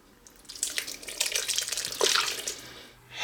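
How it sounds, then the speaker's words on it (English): Marinade poured over chicken pieces in a slow cooker, a wet splashing pour that runs steadily for about two and a half seconds, close and fairly quiet, with no talking. "all we need to do is pour over our marinade"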